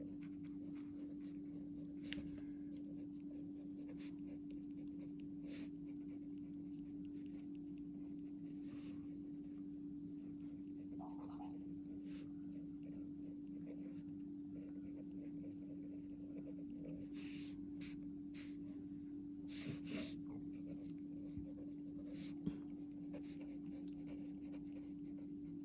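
A pen writes on paper in faint, intermittent scratching strokes over a steady low electrical hum, quiet and close, with no talk.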